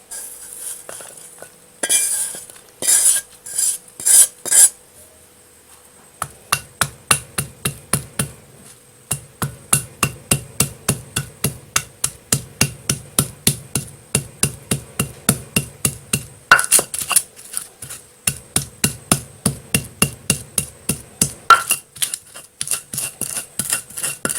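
Toasted ingredients ground by hand in a stone mortar (ulek) for pempek, giving a long run of steady, rhythmic pounding and scraping strokes, close and fairly loud, with a few sharper clinks early on and no talk.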